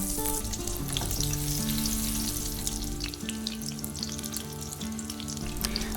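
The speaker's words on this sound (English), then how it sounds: "Then fry in the same ghee." Battered cauliflower fries in ghee with a steady, dense bubbling sizzle that stays even throughout, and faint background music plays underneath.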